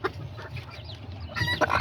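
Hens and roosters of the Kikiriki Azteca breed cluck in a steady, close run over a low farmyard hum, with a brighter burst of calls near the end.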